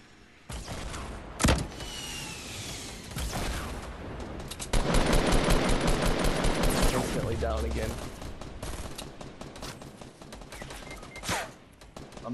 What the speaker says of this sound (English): I'm getting shot from every fucking direction there possibly is